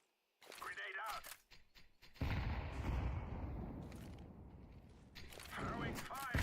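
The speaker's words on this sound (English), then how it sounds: "Grenade out." A grenade explodes in a video game with a deep, rumbling boom that rolls on for a few seconds, set between short bursts of nearby talk.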